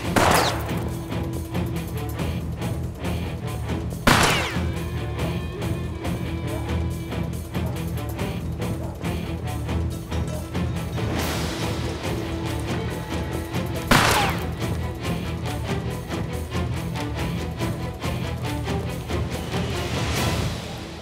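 Gunfire in a dramatic scene, sharp loud shots at a few moments standing out over a continuous bed of music and background noise.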